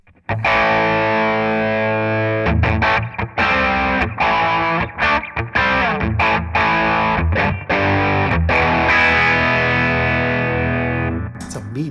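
A 1978 Ibanez Iceman electric guitar is played through a distortion pedal, with thick, sustained chords and riffs broken by short stops, loud and up close.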